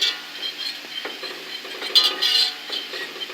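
Four tablespoons each of butter and flour cook in a pan as a roux, a quiet sizzle under the scrape and light clink of a utensil stirring against the pan, heard up close.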